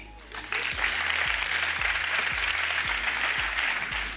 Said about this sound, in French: Et on peut l'applaudir Valérie.